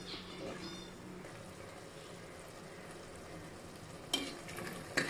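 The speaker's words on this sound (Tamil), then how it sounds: "உப்பு போட்டு ஒரு பத்து நிமிஷம் அப்படியே அடுப்புலேயே இருக்கட்டும்" Mutton lung gravy seasoned with salt simmers in a pot on a stove, giving a faint, steady bubbling sizzle with a couple of brief utensil clinks near the end.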